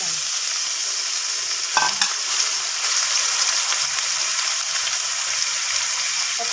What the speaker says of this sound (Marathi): आपण घेऊ टाकू चिकन।